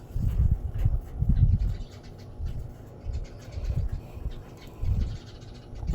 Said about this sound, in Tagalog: Grabe lagi duwa sa langgam sa atop, anak. Duwa magiron sila, anak. Daghan kayong langgam, anak.